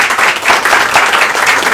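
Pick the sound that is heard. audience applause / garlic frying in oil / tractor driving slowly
audience applause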